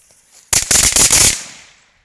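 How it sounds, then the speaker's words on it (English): A string of firecrackers going off outdoors in daylight as a sudden rapid crackling burst of loud pops lasting about a second, then fading echo. "Those are good firecrackers, y'all."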